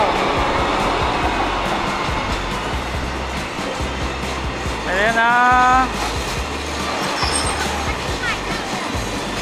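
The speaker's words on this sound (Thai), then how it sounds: "นู่นรถไฟปูนมาแล้ว" A heavy cement freight train rumbles past steadily, with a horn blast sounding midway, while people talk over the noise.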